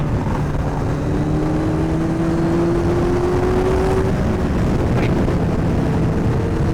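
A Kawasaki Z900 motorcycle with a loud exhaust rides at night, its engine holding a steady, close droning roar as the pitch climbs slowly under a constant wash of wind noise.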